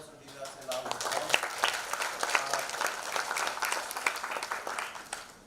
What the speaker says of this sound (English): Dr. Sinha, he also deserves a loud applause.